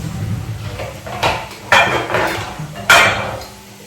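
A dish is handled in a home kitchen to take bolognese sauce for lasagne, with a few loud close knocks and clatters of crockery against a hard surface over a low background hum.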